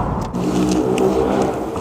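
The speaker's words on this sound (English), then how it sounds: "the engine sounds much quieter now it's got new oil in it" Car engine running after a fresh oil change, a steady mid-low rumble with slight revving swells, continuous and close, no voices over it.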